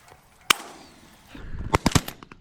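Shotgun shots during a pigeon hunt: one sharp blast, then a cluster of several quick reports a little over a second later, loud and outdoors with a short echo.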